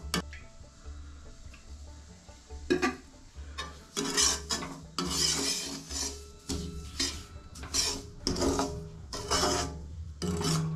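Vegetables for rava upma are stirred and fried in a pan, giving repeated scraping and rasping strokes of a utensil against the metal with light clinks, sparse at first and then in a steady rhythm.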